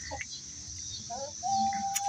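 Domestic hens clucking in a farmyard, with short soft clucks and chirps and one longer drawn-out call toward the end, close by over a low background rumble.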